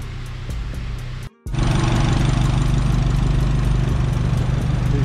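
Turbocharged Honda engine idling up close, a steady mid-low rumble broken by a brief dropout, then continuing evenly and loud.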